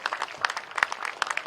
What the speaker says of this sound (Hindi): एक बार जोरदार ताली बजाकर माननीय मुख्यमंत्री जी का स्वागत कीजिए